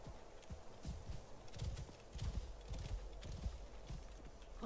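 Horse hooves clip-clop in a steady walking rhythm in the video game Assassin's Creed Origins, close and fairly soft, with no talking.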